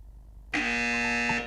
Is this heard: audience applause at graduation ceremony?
no